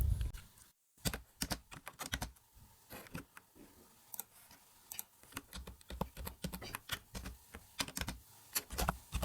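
Rapid, uneven keystrokes on a computer keyboard while HTML code is typed, close and clear, with a brief pause near the start and no talking.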